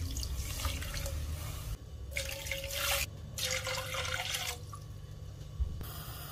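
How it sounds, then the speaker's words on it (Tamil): Water poured into a pot for mango payasam with washed sago: splashing, trickling bursts in three separate pours with brief pauses between, close and clear, no talking. "இதுக்கு இப்போ 3 கப் தண்ணி விடுவோம்."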